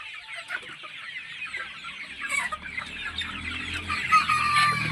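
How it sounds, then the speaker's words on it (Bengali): Chickens on a poultry farm cluck steadily in a dense, continuous chorus, with scattered higher calls and a brief crow-like note rising near the end, no talk over it. "মুরগিগুলো তো অনেকগুলো বড়ই হয়ে গেছে।"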